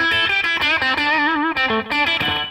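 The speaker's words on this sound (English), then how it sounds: "So this was the longer slap, but still very short. One repeat with the ducking." Electric guitar phrases played through a TC Electronic Flashback delay set to a short slap with a single ducked repeat. The notes are loud and clear, each followed by a tight echo, with no other sound.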